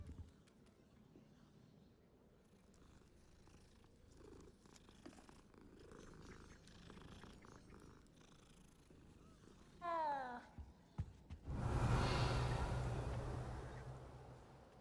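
A cat in the game Hogwarts Legacy purrs in a soft, steady rumble, with game sounds and a few quick chirps before a louder burst of noise near the end.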